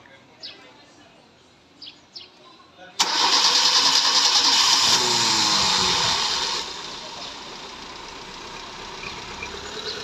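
A Mazda 323 with a faulty idle that dies on gear changes cranks and catches abruptly, then runs loud and rough before dropping to a steadier, quieter idle, with voices faintly heard before it starts.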